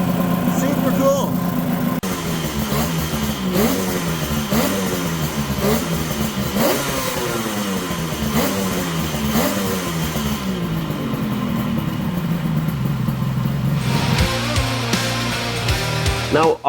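1973 Kawasaki S2 two-stroke motorcycle engine, with upgraded larger carbs, revving in repeated rising and falling sweeps before settling back to a steady idle, loud and close, with someone talking over it.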